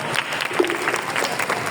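Audience applause at a painting competition event: a steady, dense patter of many hands clapping continuously throughout, moderately loud and close, with no speech over it.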